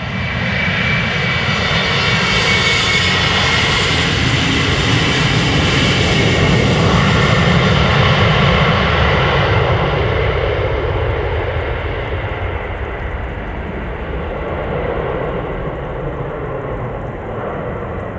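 A KLM airliner departs Amsterdam Schiphol Airport, its engines roaring loud and close in a steady, broad rumble that swells and then slowly recedes over eighteen seconds, with no voices.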